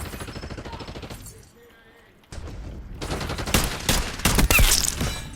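Rapid gunfire in the video game Black Ops 6, with a new pistol: dense loud bursts of shots that fall silent for about a second, then resume more heavily.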